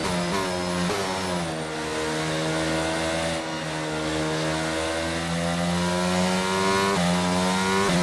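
Simulated Formula 1 car racing on a wet track in F1 22, a loud, high-pitched engine whine held steady and rising through the gears, with brief dips at gear changes and no talking.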